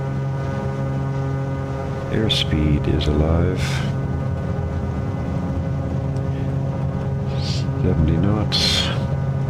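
Aircraft engines spool up and roar steadily through a takeoff roll in a flight simulator, a constant droning hum with rising whine beneath a voice calling out speeds.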